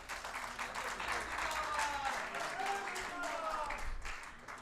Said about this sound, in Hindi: एक बार ढेर सारी तालियां अजय जी के लिए।